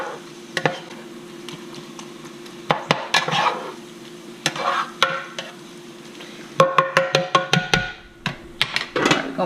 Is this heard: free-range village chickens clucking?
no